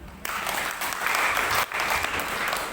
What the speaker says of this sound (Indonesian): Beri tepuk tangan buat orang-orang yang siap memberi untuk pekerjaan Tuhan.